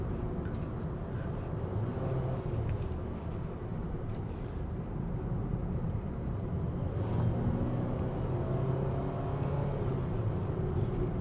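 A 2021 Mitsubishi Xpander MPV cruises in second gear at about 60 km/h, giving a low, steady engine and road drone. The hum is fairly quiet and even, with no voices over it.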